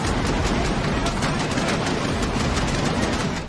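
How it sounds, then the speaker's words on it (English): Loud, continuous blasting roar from concussion pyro at a WWE show opening, a dense wall of booming noise sustained throughout without a break. "Almost any time WWE uses pyro, they also have the concussion pyro going off to make it sound really loud."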